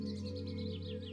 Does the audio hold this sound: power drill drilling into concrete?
no